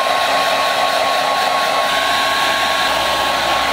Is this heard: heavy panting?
no